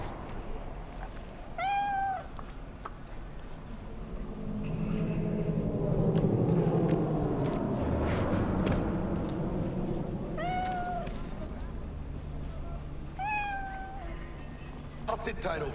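A cat in the Cyberpunk 2077 video game gives three separate, clear meows spaced several seconds apart, over a rumbling, whooshing background that swells in the middle.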